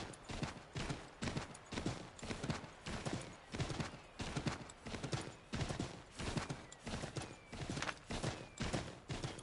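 Rapid, rhythmic horse hoofbeats in Assassin's Creed III clatter steadily throughout, a regular galloping pattern of sharp thuds repeating about twice per second with no pauses.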